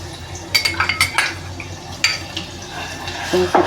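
Ginger and garlic drop into hot oil in a pan on a gas flame for a dried-fish curry, with short sizzling bursts, spoon scrapes and clinks of utensils against the pan close by, no talking.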